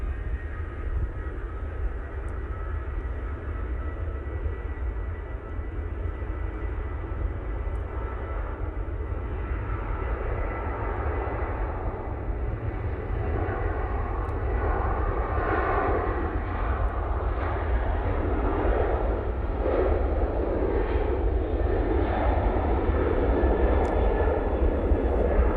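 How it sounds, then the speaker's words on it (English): A Ryanair airliner taking off at Manchester Airport roars with a broad, rumbling engine noise that swells gradually and stays loud and sustained, with no talking. "as soon as I switch over, there goes the Ryanair."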